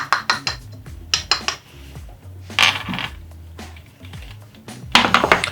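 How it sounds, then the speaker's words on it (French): Pectin X58 and sugar are mixed together in a bowl, a run of quick metallic clinks and taps with clattering bursts from utensil against bowl. "Je mélange la pectine X58 avec le sucre."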